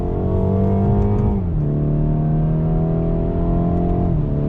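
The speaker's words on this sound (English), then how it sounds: "On the brakes, slowing us down, downshifting into third, into second." A rear-wheel-drive car's engine drones loudly from inside the cabin, pitch stepping down through two downshifts before pulling steadily and climbing again out of the turn, with no talk.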